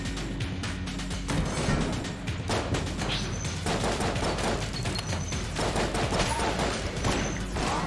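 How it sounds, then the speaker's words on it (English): Fast, punchy video-game weapon fire in Enter the Gungeon, a steady stream of rapid shots with crashing impacts, loud and close throughout. "Oh, you shoot fast and powerful!"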